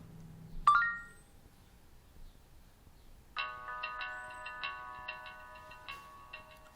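Samsung Galaxy SIII answering a spoken request through S Voice: a short chime sounds, then music starts playing from the phone's small speaker, a bright melodic tune with repeated notes, fairly quiet and with no one talking over it.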